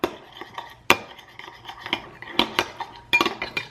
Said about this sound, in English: just take a spoon and then just add it in like this. And just mix it up.